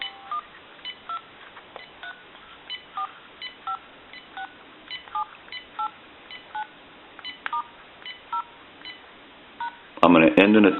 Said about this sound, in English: If you watch the analyzer, we'll dial our numbers out.